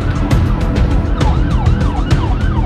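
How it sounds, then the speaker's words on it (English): An advanced ambulance, a mobile ICU, sounds its siren loudly and close, its wailing tone sweeping up and down steadily over road noise. "Enter the advanced ambulance, a mobile ICU equipped with the latest technology."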